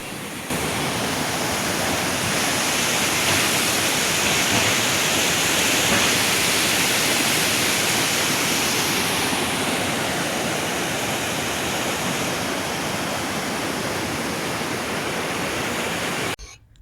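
Water rushing steadily beneath a mountain road blocked by a landslide on the route to Hunza, a loud, continuous broadband roar with no voices that holds evenly for the whole stretch before cutting off at the end.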